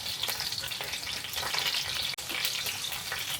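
Garlic butter chicken wings pan-frying in a wok give a steady, close sizzle with small crackles, holding at an even level throughout with one brief dip near the end.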